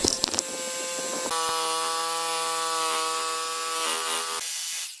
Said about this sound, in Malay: Menggunakan mesin gergaji tangan, bentuk lengkung yang telah siap dilakar akan dipotong dengan berhati-hati.